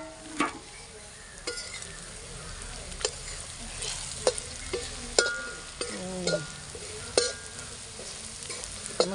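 Masala spices of chilli powder, fennel, pepper, meat masala and turmeric stirred into a hot frying pan for roasted cowpeas, with a steady sizzle and repeated scraping clinks of the spoon against the pan, close and alone.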